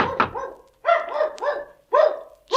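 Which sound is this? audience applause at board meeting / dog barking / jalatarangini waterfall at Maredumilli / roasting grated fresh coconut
dog barking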